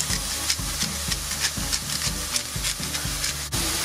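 Vegetables sizzle steadily in a hot pan while being stirred with a regular scraping rhythm. Frying hiss fills the background, loud and close, with no voices over it.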